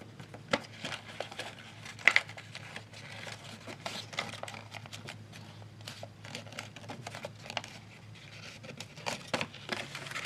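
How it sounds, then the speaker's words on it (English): Paper being folded into a paper jet gives soft, close crinkles and rustles throughout, with a sharper crease snap near the start and light scraping handling noises between. "You're gonna fold back on that edge."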